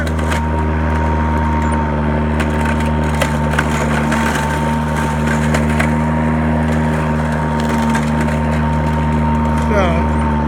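A Toro 20363 battery-powered mower runs steadily with a constant motor hum as it shreds old, woody loofah gourd vines, with faint crunching and splintering under the drone.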